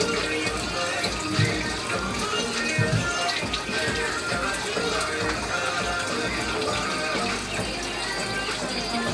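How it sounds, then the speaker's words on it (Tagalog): Boiling water pours out in a continuous splashing stream, with a couple of knocks from the pot early on. "Matapon natin yung unang pagkakuluan."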